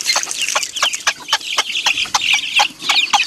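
A close flock of chicks and chickens cheeps and clucks busily, sharp overlapping peeps in quick irregular bursts with no talking.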